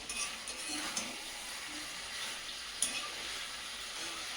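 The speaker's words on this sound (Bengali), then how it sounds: "মাংসটা কিন্তু গল্পে গল্পে অনেকক্ষণ কষানো হয়ে গেল।" Meat is slowly sautéed in a pan for a kasha-style curry, giving a steady, moderate sizzle with a couple of brief stirring knocks, no voices.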